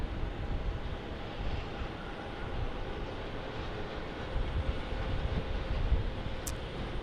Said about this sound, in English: Another little Cessna jet here.